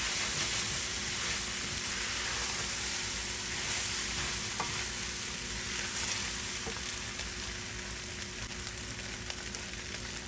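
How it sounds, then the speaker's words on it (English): White rice being stirred in a pan for Louisiana dirty rice gives off a steady sizzle and frying hiss with faint scraping, continuous and close, with no talking. "Stir it and let everything coat the rice."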